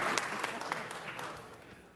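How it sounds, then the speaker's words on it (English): Applause at a city council meeting, a spread of hand claps from the audience at moderate distance, fairly soft and steady, with scattered voices mixed in. "Let's give her a big round of applause."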